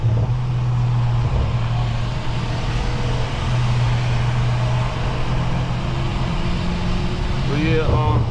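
A Stage 2 tuned 700+ hp BMW G30 M550i sedan drives along with a steady, droning engine and road rumble heard from inside the cabin, constant and fairly loud, with a brief rising burst near the end.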